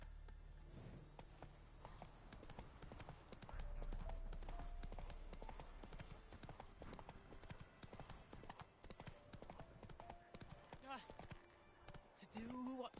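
Hooves of Roach, the horse from The Witcher 3, clip-clop in a fast rhythm through most of the stretch, with a brief neigh and spoken game dialogue layered on top.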